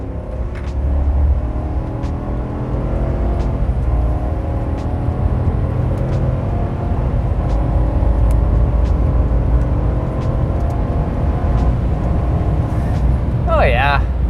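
Chevy 2500 HD pickup with a 6.6L gas V8 and Allison 10-speed automatic floored from about 70 km/h on a highway: a loud, steady engine drone and road rumble building through the gears, with a voice speaking over it.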